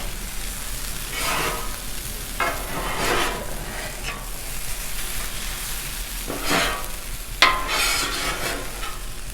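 Food gets stirred and scraped into a pile on a Blackstone griddle, with repeated metal spatula strokes rasping over a steady sizzle of crusty breakfast-burrito filling.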